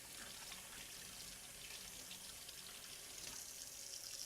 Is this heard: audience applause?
no